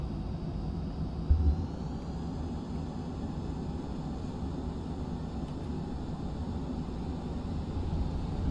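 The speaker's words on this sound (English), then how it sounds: "You don't need afterburner to take off using the catapult." A jet launched by carrier catapult in Flight Simulator X at full military power without afterburner, a steady loud broadband engine roar and rushing wind that holds throughout, with a brief thump near the start.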